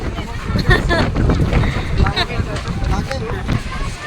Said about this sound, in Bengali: কি হাওয়াটা দেয়